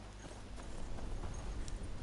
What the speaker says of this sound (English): So we'll grab Candy, our horse